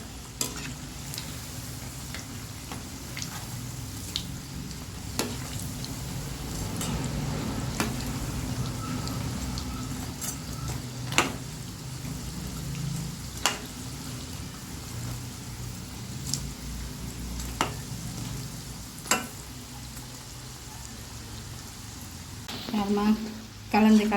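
Onion bonda fry in a pan of hot oil with a continuous close sizzle and bubbling, broken by occasional sharp clicks and scrapes of a utensil.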